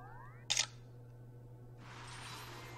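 A single crisp camera-shutter snap while photographing yokai in the video game Yo-Kai Watch, a short bright click standing alone, followed later by a soft airy swell.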